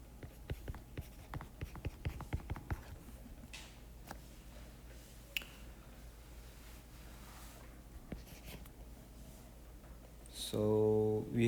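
Chalk or marker writing out boundary conditions during a quantum chemistry lecture on the classical wave equation, quick clusters of faint taps and scratches over a quiet room, with a short burst of louder noise at the end.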